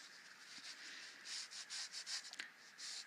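A rag rubs over a glazed batik surface in a faint, soft scrubbing sound, repeated short strokes near and quiet with no talking.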